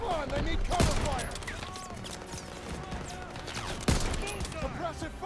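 Gunfire in the World War II video game Call of Duty: WWII, with sharp shots and bursts over a dense combat din, two heavy blasts standing out, and shouted voices mixed throughout.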